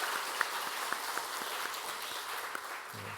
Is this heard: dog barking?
no